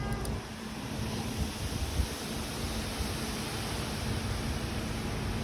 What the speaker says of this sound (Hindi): आज दिन से हवा चल रही है।